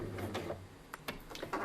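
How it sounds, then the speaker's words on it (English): A sewing machine stitches the seam of a drawstring bag, with several short bursts of needle clatter separated by brief pauses, close and fairly quiet. "So go a few stitches, do a back stitch, then start sewing down to that 1 inch mark."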